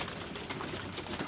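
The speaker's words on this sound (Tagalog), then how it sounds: "Ibang klaseng kalapati." Pigeons coo in a dovecote where eggs and a chick are kept, the soft, low cooing blurred under a steady wash of noise with no clear breaks.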